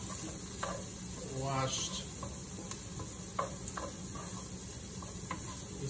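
Cut cabbage and green leaves sizzling in a pot for smothered cabbage, a steady close frying hiss with a few soft knocks and stirring sounds, a voice briefly speaking over it.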